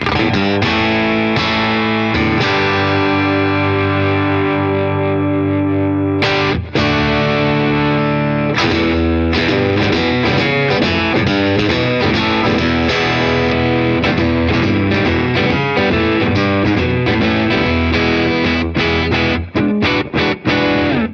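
Heavily distorted electric guitar played through a Two Notes Revolt amp-style pedal with its boost engaged, strummed chords and riffs ringing loud and continuous throughout, with no talking.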